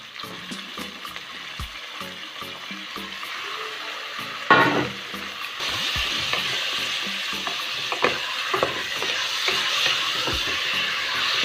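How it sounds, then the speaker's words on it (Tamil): Cleaned beef pieces sautéing in hot oil for a beef gravy, a loud continuous sizzle with a brief splashing burst midway, stirring scrapes throughout, no talking. "எண்ணெயிலே 2 நிமிஷம் நல்லா வதங்க விட்டுறலாம்"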